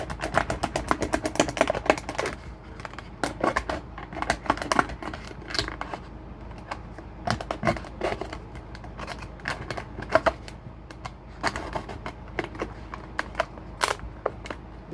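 A blade cutting through recycled materials for physical education play equipment gives a steady run of sharp, dry clicks and snips, close and fairly quiet, with irregular bursts of rhythm and no voices.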